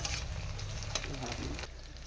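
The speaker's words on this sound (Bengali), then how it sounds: "পেঁয়াজগুলো হালকা ভাজা হয়ে গেলে তাতে টমেটো কুচি দিয়ে দিচ্ছি" Chopped tomatoes added to lightly fried onions in a pan of spiced oil, giving a dense, close sizzle that stays even throughout with a faint tap.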